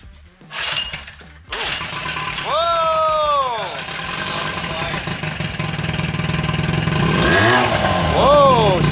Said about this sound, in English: Now that we allegedly have a functioning motor